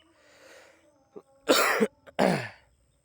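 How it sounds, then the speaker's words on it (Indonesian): Two or three harsh coughs close up, preceded by a soft throat sound, with brief pauses between bursts and no talking. "Sorry ya, batuk-batuk."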